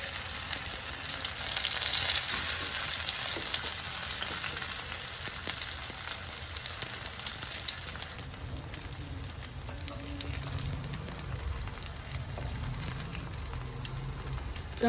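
Vegetable cutlets shallow frying in oil in a pan, a constant close hiss and crackle like rain on a surface, louder at first then settling into a steady sizzle, with no talk.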